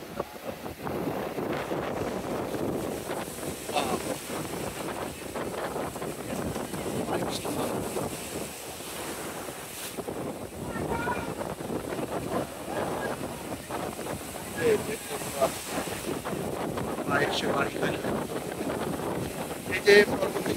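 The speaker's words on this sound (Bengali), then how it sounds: "প্রতি 3 থেকে 4 সেকেন্ড অন্তর অন্তর ঢেউগুলো আসতে থাকে" Steady surf rolls in at Cox's Bazar beach, a continuous broadband wash of waves heavily overlaid by wind buffeting the microphone.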